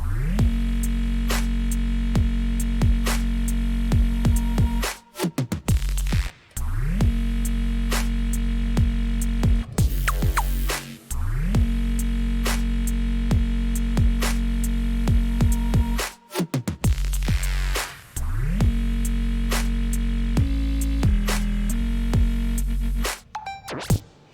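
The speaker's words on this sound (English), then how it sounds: "that's how you make some cool bass sounds" A heavy, sustained synth bass line with layered tones made in the Vital synthesizer, repeating in phrases with short gaps between, loud and droning with no voices.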